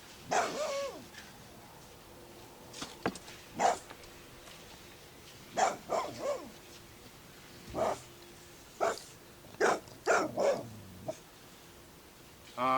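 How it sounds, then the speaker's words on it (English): A neighbour's dog barks repeatedly in a garden, with scattered bursts and short yips spread across the stretch, moderately distant and loud, with faint ambient outdoor noise between barks. "And next door's dog."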